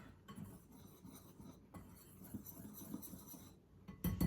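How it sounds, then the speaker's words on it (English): Dry cookie ingredients, salt among them, being whisked together in a bowl, giving a quiet, close scratchy rattle of the whisk against the bowl with a louder clink at the end. "I'm just going to whisk it together"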